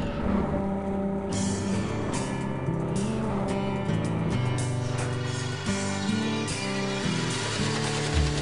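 A 225-horsepower outboard boat motor runs loud and close, a steady throbbing drone with shifting pitch throughout, no voices over it.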